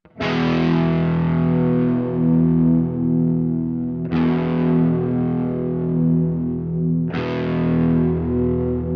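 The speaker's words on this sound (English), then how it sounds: "It's almost like a modulation on the stereo spread of that delay and that pitch shift." Guitar chords run through a slightly detuned, modulated delay and pitch shift, ringing out three times in long, shimmering sustained swells that waver in and out, loud and alone without voices.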